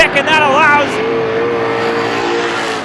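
Race cars in a Strictly feature at Star Speedway roar past in a loud, sustained engine drone with one car's pitch sweeping upward, while an announcer talks over the racing.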